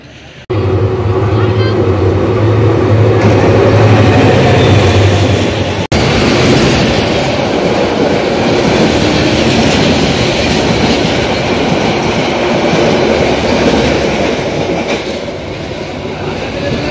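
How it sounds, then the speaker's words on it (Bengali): An express train rushes past at high speed, a loud roaring wash of wheel and rail noise with clickety-clack that holds for many seconds before easing slightly at the end. "একটা ডাইরেক্ট ট্রেন গেল। কি জোরে টান দেয়।"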